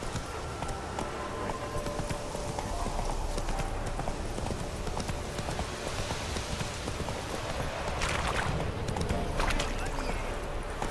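Hooves of the horse Roach clip-clopping steadily in The Witcher 3: Wild Hunt, a continuous moderately loud rhythmic trot over a steady ambient bed.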